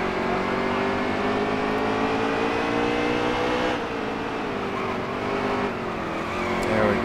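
Race car engines roar steadily in NASCAR Heat 3 during a Bristol night race, a dense, continuous drone of multiple cars with rising and falling engine pitch as the field circles the short track, loud and close throughout.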